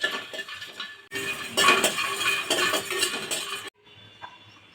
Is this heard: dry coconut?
yes